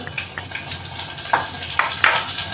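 Asafoetida, green chili and turmeric sizzle faintly in hot oil in a pan for a tempering, with a few sharp spoon clinks against the metal near the end.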